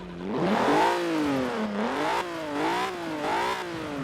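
A 1992 Alfa Romeo 155 engine in Forza Horizon 4 turns over and revs, a raspy, wavering tone that rises and falls through several close, loud throttle blips with no talking.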